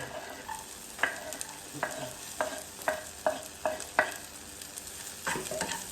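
Garlic frying in a pan as a sauté base for sardines with misua and moringa, with a spatula scraping and stirring in a loose rhythm over a soft, steady sizzle, close by.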